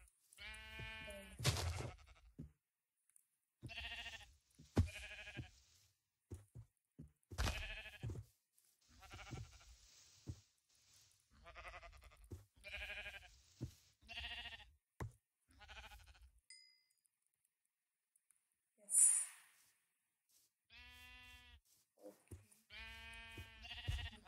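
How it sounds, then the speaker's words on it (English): Sheep in the Minecraft video game bleat in short repeated calls, with several separate bleats spaced across a quiet stretch of gameplay, moderately loud and with no talking over them. "Oh, I see some sheep."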